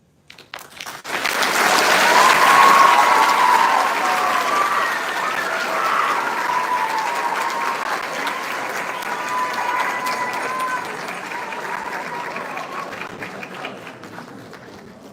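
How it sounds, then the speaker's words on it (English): Sustained applause from a debate finals audience after a speaker finishes, rising quickly into a dense roar of many hands with some cheering, then holding steady and slowly thinning over about fifteen seconds. "We ask members of the audience to refrain from clapping until the end of the round, please."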